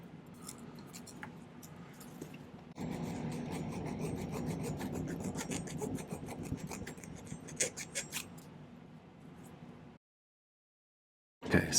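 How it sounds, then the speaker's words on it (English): A silver pendant is worked with a hand file in steady rasping strokes, first softer and then louder and denser, with light metallic jingles. The filing stops near the end and is followed by a short silence. "I'm going to spend some time filing this"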